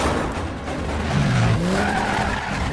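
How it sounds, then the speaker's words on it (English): A film car chase through Italy, with tires skidding and squealing in rising and falling sweeps over steady engine roar, loud and continuous throughout. "In Italy, they have an amazing car chase."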